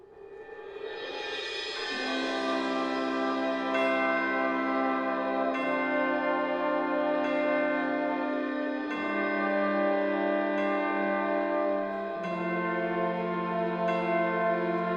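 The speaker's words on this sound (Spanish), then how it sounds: "Las campanas de la iglesia anunciaban las 12 del mediodía." Church bells ring out the noon hour, a sustained rich tolling with strokes landing every few seconds and long ringing overtones that blend into a continuous loud peal.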